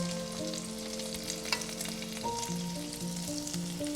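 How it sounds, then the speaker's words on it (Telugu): Fish pieces fry steadily in a pan for a Telugu fish pickle, a continuous close sizzle with faint stirring or utensil contact, no one talking. "సో చేపలు ఇలా వేపుకుంటే సరిపోతుందండి."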